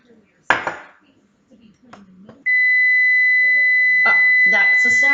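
Kitchen oven timer sounding a loud, sustained electronic tone that starts partway through and holds steady to the end, preceded by clattering dishes and a pan clank nearby, with a person speaking briefly.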